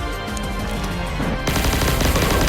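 The Neutron Pulsator gun in Pixel Gun 3D fires in a dense, rapid automatic stream, loud and continuous, with a harsher, fuller burst kicking in halfway through.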